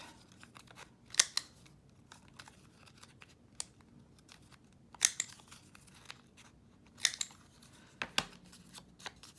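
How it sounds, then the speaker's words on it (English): A paper craft folio has its corners rounded with a corner cutter: four quiet crisp clicks spaced a couple of seconds apart, with faint paper rustling and handling noises in between. "And I am going to round the corners off."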